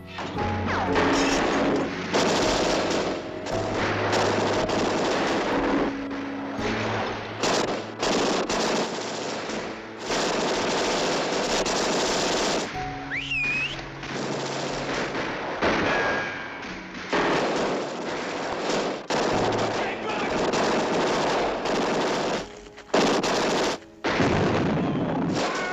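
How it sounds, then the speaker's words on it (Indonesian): A fierce shootout between police and a gang, dense machine-gun bursts and single shots rattling almost continuously, loud and close, with crashes and booms mixed into the chaotic barrage and no talking. "Di sana terjadi baku tembak yang sengit"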